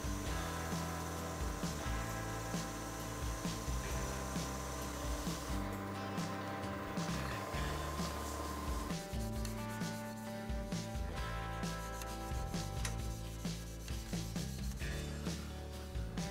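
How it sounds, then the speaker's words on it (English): Continuous abrasive sanding on wood spinning on a lathe, a steady rough hiss with a machine hum underneath, holding unbroken throughout. "I'll sand through 600 grit before using it."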